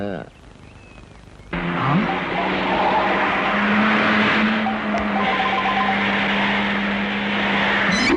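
Expensive car skidding and striking someone, a loud sustained tire squeal over engine noise that starts abruptly and holds for several seconds, with a brief sharp knock in the middle.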